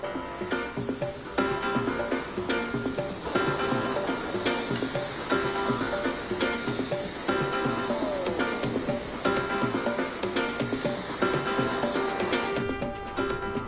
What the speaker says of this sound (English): we are spraying color, which is also a bit loud